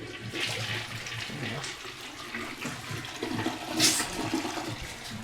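A toilet flushes in a campsite restroom with strong water pressure, a loud continuous rush of water that surges near the end, with brief talk underneath.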